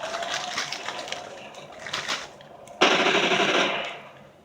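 Rapid automatic gunfire rattles in Call of Duty: Ghosts multiplayer, with bursts in the first half. A loud, sharp burst around the three-second mark fades away by the end.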